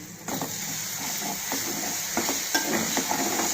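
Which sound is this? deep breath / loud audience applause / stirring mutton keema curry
stirring mutton keema curry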